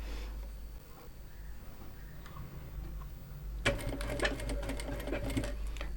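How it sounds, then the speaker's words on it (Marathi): Sewing machine stitching a katori blouse: quiet ticking at first, then a steady, close, rapid mechanical stitching rattle in the last couple of seconds. "तर स्टार्टिंगला शिलाई लॉक करायची आणि त्यानंतर पुढे आपल्याला टिप कंटिन्यू करायची आहे."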